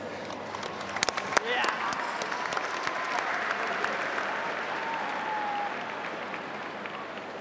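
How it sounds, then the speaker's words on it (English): Audience applause for the players after an AFL curtain-raiser match, the Rio Tinto Cup, rises to a steady, full round of clapping with crowd noise and fades near the end. "Would you please give the players a round of applause?"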